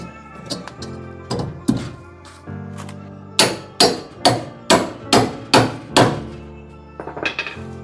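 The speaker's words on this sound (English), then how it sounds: "If I can wedge my pickle fork in there, maybe that'll keep it from turning." Sharp metallic hammer strikes drive a pickle fork into a car's front suspension. A few scattered blows are followed by a fast run of about seven evenly spaced, ringing hits, close and loud, with no voices.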